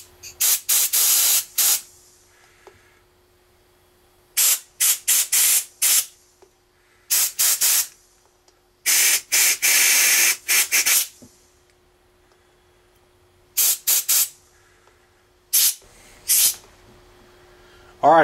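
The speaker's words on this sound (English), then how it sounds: "Some compressed air, and just run it down in these housings." Compressed air blasts through the carburetor housings of a 2001 Honda XR 400, loud close hissing bursts in irregular clusters separated by quiet gaps, with a faint steady hum underneath.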